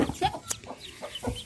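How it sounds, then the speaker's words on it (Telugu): Native country chicks peep and a hen clucks close by, several quick, high chirps and short clucks overlapping in an uneven rhythm over about a second and a half. "కోడి పిల్లలు 6 అయినాయి."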